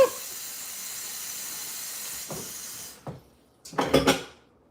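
Pans on a home stove, two at a time, give a steady steamy hiss that fades, then a few sharp metallic knocks and a short burst of clattering cookware close by, with no talking.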